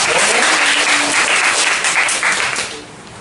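Church audience clapping loudly for a child, dense applause from many hands sustained for about three seconds before easing off slightly at the end.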